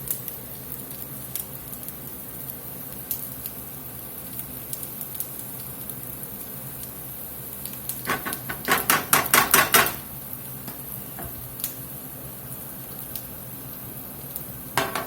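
Bacon frying in a pan for a cooking dish of seared scallops in mustard bacon cream sauce: a low steady sizzle that swells into a brief burst of loud crackling and clatter, then settles back to a quiet hiss.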